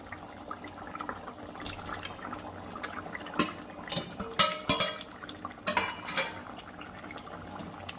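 Tengra fish dropped into a cooking pot in a home kitchen, giving a handful of sharp clinks and soft splashes in quick succession against a quiet background of faint simmering.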